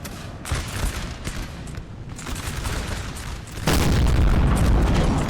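Artillery booms and musket volleys in a Napoleon Total War battle against a French line, a dense rolling fusillade of overlapping shots that swells suddenly into a louder, heavier barrage near the end.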